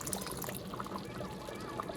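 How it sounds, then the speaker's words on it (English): Water poured into a pot of simmering Jamaican hominy corn porridge, a steady close trickle and splash lasting a couple of seconds with no talk. "I'm just gonna add a little bit of more water in there"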